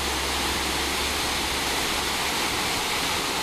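Water pours over a dam at Marble Falls, a loud, dense, continuous roar of falling water with no breaks or voices.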